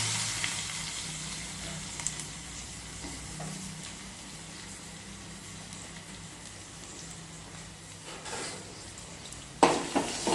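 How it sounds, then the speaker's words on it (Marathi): Cumin seeds and green chilies frying in hot oil, a steady close sizzle with occasional clinks of a utensil and a louder clatter near the end, no talking. "जिरं घालू थोडं मिरची घालून घेऊ जरा मिरची भाजली की मग आपला कांदा घालू"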